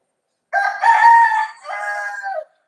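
A rooster crows once, loud and close, its drawn-out call breaking briefly in the middle before trailing off, with nothing else audible around it.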